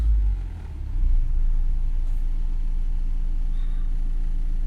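A diesel engine with an aftermarket DPF settles back toward idle, a low steady rumble that dips and then holds, fairly quiet and close, with no other sounds over it.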